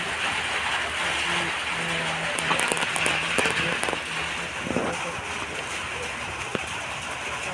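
Steady rain falling, a continuous wash of hiss with faint scattered drips, with some quiet background sounds mixed in.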